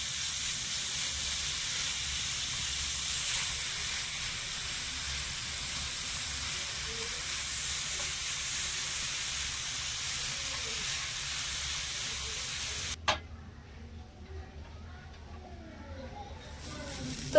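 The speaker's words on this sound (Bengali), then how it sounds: "এবারে গাজরটা দিয়ে দেব এবারে নেড়ে ছেড়ে একটু ভেজে নেবো" Grated carrot fried in a pan gives off a steady, close sizzle that runs unbroken for about thirteen seconds, then drops suddenly to a quieter, thinner hiss.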